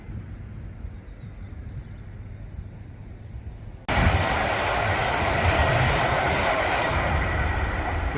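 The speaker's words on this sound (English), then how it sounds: "Then we have another Avanti West Coast that goes to Preston, and the other one comes now, goes to London." Avanti West Coast trains on the West Coast Main Line pass by outdoors, a steady distant rumble that jumps to a loud, close roar of rolling stock halfway through and stays loud to the end.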